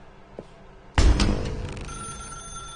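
A telephone rings in a video game. A sudden loud burst sets in after a quiet stretch, then settles into a steady, sustained bell tone with no talking.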